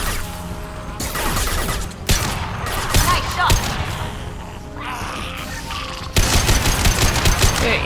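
Gunfire in the video game Mass Effect 2, played on Hardcore difficulty: dense, loud bursts of shots and impacts that keep coming in waves and surge again near the end, layered with other combat effects.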